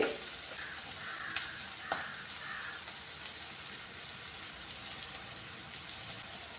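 Spice powders, coriander and chilli, fry in hot oil for kadala curry, giving a faint, soft crackling sizzle with a few light clicks near the start.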